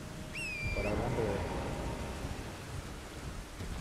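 Steady rain with low rumbling thunder in the video game Elden Ring, a continuous hiss with a deep roll toward the start, played at moderate level beneath a voice.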